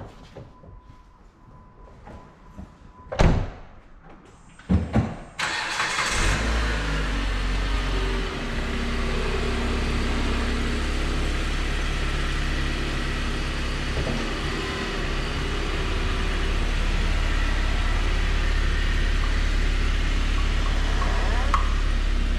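A new car, a ski pro's freshly delivered vehicle, starts up and pulls away, its engine droning steadily and loud after a couple of sharp door or latch clunks at the start.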